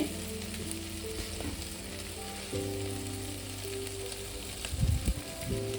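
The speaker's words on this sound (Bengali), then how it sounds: "সোয়াবিনটার সঙ্গে মিনিট দুই তিনে কষিয়ে নেব" Soybean curry frying in a pan while being stirred, with a steady loud sizzle throughout and a few scraping clatters of the spoon near the end.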